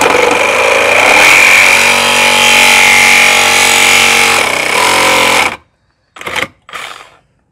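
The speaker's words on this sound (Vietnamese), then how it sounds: "Đây bây giờ mình test cái lưỡi sắt cho anh em xem." A Milwaukee M18 cordless reciprocating saw fitted with a Makita metal-cutting blade saws through a piece clamped in a vise. It gives a loud, steady buzzing rasp for about five seconds, then stops abruptly, followed by two brief bursts.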